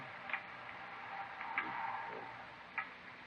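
Loud clock ticking in an old-time radio drama scene, a few crisp, regularly spaced ticks heard alone over soft room hiss.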